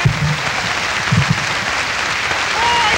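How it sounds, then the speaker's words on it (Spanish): Dense, loud applause from a live audience at a comedy-music show, a continuous clapping roar that holds for the whole stretch, with faint voices mixed in beneath it. "aplauso."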